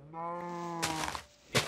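A Minecraft cow lets out a single low, harmonic moo lasting under a second, followed by a couple of short rustling thumps, close and clear with no talk.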